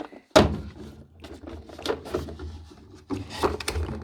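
A drawer on a Clarke HD metal tool box slides open with a sharp thunk near the start, followed by faint rattling and shuffling of tools and sockets inside, close up and with no talking.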